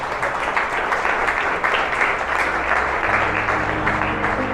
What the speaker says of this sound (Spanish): Aplauda, hijo, aplauda,